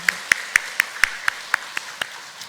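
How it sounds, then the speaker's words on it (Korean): A church congregation claps in steady unison, nine evenly spaced sharp claps at a brisk rhythm, fairly close and distinct over a quiet room, with no talking. "우리 하나님께 박수로 영광 돌리겠습니다"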